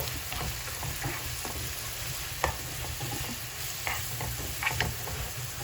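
Tomato being stirred into a frying stuffed-bread filling in a pan, a steady low sizzle under repeated soft scraping strokes of a spoon, close and moderately loud with no talking.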